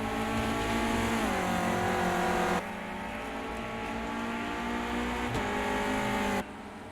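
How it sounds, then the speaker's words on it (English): Small Renault Clio race cars roar through the Oulton Park circuit in a racing video game, engines droning loudly at high revs with pitch shifts as the cars accelerate and pass. "You can hear what sounds like a sniper rifle going off, but that's just the exhaust of these perky little Renault Clios."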